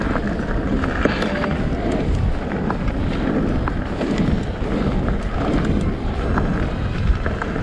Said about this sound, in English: Just got a cold head with the wind now.